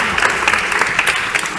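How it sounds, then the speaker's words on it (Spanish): An audience applauds at a talk on time policies and tools for real problems, a dense, steady wash of clapping from a seated crowd, close and loud, filling the whole moment. "Un aplauso para los tres,"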